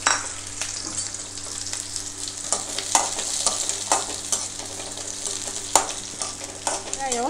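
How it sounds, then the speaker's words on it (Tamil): Small onions frying in a pan for a fish curry, with a crackling sizzle throughout and repeated scraping strokes of stirring at an irregular pace, loud and close, with no talking. "வெங்காயம் இந்தளவுக்கு சிவக்க வறுத்தா போதும்."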